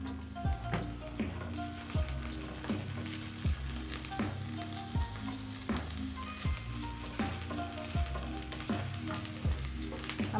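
Onions fry in an oiled pan used for butter chicken, a continuous crackling sizzle with faint stirring, accompanied by rhythmic background music.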